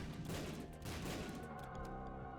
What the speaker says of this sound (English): we don't have to worry about the explosions from Firemind